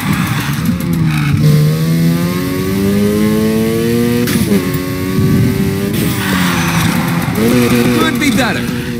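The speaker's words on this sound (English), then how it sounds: "Hold that drift as long as possible." In Need for Speed: Heat, a car drifts with screeching tire squeal over a revving engine that climbs and drops, loud and close, with a voice talking underneath.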